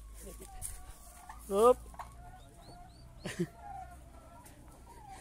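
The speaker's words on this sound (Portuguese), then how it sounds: "Olha os piruzinhos novinhos, tá vendo?" Young turkey poults on a farm give faint, high peeping calls, joined by a louder fowl cluck and brief human exclamations over a quiet outdoor background.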